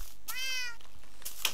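A single drawn-out cat meow from a video game rings out clearly, followed by a short soft rustle and then quiet.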